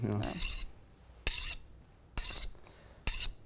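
A knife drawn along a honing steel in four separate, evenly spaced bright rasping strokes, each about a third of a second long with a short pause between, close and clear with no talking.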